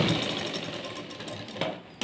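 Sewing machine running steadily while stitching the second side of a blouse seam, a close, even mechanical whir with a brief louder bump near the end.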